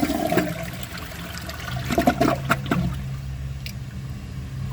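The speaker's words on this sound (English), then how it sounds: "So let's watch it pass a washcloth." A 2013 American Standard Champion 4 toilet flushes a washcloth, with a loud rushing gush of water up close followed by gurgling and a settling trickle.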